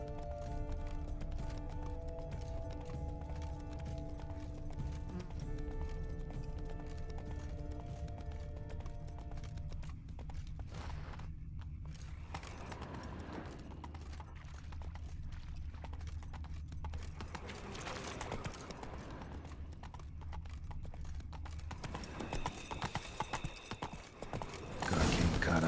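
Hooves clip-clop at a steady trot in the video game The Witcher 3: Wild Hunt, Blood and Wine, joined by faint rattling and occasional whooshing bursts, with no voices over them.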